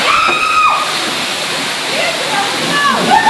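An automatic car wash sprays water in a steady, loud rushing hiss that fills the whole stretch, with faint squeaks and voices mixed in.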